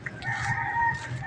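A fighting rooster crows close by, one drawn-out cock-a-doodle-doo with a harsh, nasal tone, heard alone over faint background noise.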